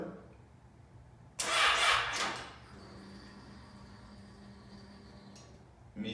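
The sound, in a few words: Yamaha motorcycle fuel pump working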